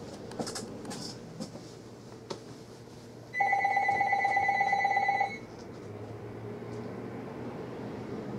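A telephone rings with a steady electronic trill of about two seconds, loud and clear over a quiet room where trading cards are being opened, with faint handling noises before and after.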